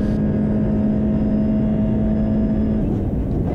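Audi RS 3 TCR touring car at the Nurburgring during TCR Europe 2021, heard onboard as a loud, steady engine drone held at constant pitch that drops off abruptly near the end, as if lifting for braking.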